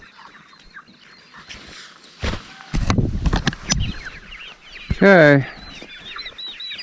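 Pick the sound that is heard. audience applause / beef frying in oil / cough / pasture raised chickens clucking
pasture raised chickens clucking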